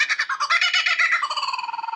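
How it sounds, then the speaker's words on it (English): Kookaburra bird in Australia cackles loudly and close by, a rapid rolling laugh of pulsing calls that slows and fades toward the end, with no other sound around it. "That is the sound of the kookaburra bird."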